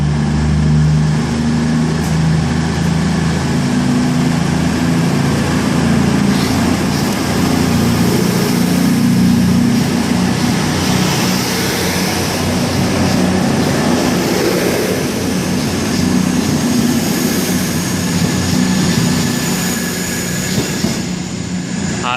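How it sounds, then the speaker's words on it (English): A CrossCountry train bound for Penzance pulls out of Exeter St David's station, a loud sustained rail rumble with wheel squeal and a steady engine drone throughout. "we got the Crosscountry service to Penzance now leaving"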